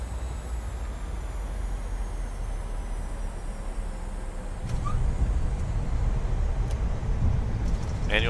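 Airliner landing rollout in a flight simulator game, a steady broadband roar of wheels and airflow that grows louder and rougher midway as braking and spoilers take effect, with faint cockpit tones near the end.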